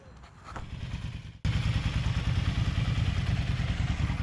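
A two-stroke motorcycle engine, on a 1981 Triumph Bonneville 750, starts up abruptly and then runs steadily nearby with a dense, rapid rattling idle, preceded by a quieter low mechanical rumble.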